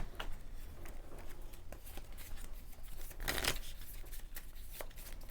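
Playing cards for the Keyforge card game get shuffled by hand, a close rapid riffling patter with one louder burst near the middle, heard alone with no talk.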